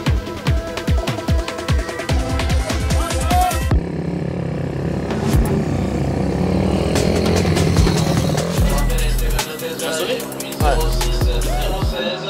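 A 190 cc endurance racing motorcycle engine at a gold-cup 24-hour race roars loud and close, with sharp revs and gear-change bursts, then a steady sustained drone as bikes pass, with brief dips near the end.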